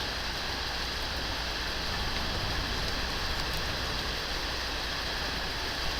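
Heavy pouring rain during a big storm with recent hail in Connecticut, a dense, steady roar of downpour filling the whole clip at close range with no voices.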